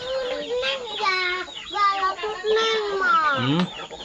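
Chickens cluck and squawk close by in quick, overlapping bursts, with one louder rising call near the end.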